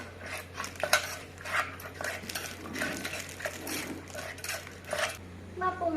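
Som tam ingredients with fish sauce are tossed together in a mortar, giving irregular scraping, stirring and sharp utensil clinks, with a faint voice in the background.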